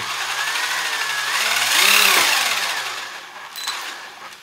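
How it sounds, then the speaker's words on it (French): Electric motor of a Traxxas Maxx RC truck revving up close, a whining pitch that rises to a loud peak midway and then falls back, with no talking. "je ne vais pas vous accélérer trop vite, hein, pour pas que tout se barre"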